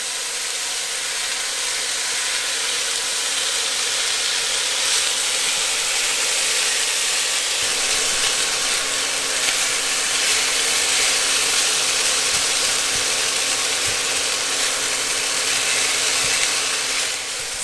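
Rice stir fry being stirred and mixed in a hot pan in a small Class B RV kitchen, giving a loud, steady sizzle and hiss that runs unbroken for the whole stretch with no talking.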